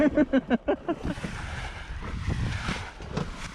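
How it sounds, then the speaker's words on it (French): Wind and choppy waves wash around a sailboat on Lake Geneva beating upwind in a steady southwest breeze. A few short, rhythmic vocal sounds open the stretch, then a close, continuous rush of water and wind fills the rest. "Les vagues et le vent étaient contre nous"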